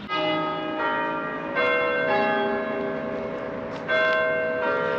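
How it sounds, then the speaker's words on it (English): Church bells of Kendal Parish Church ring out together in a steady, overlapping peal, loud and resonant, with fresh strikes swelling every second or so and no voices over them. "just turned the camera on and we've got the bells going"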